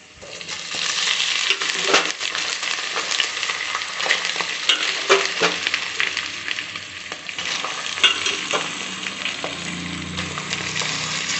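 Potato chips fry with onions in a pan, a steady, loud sizzle and crackle with occasional stirring scrapes running the whole time, no voices.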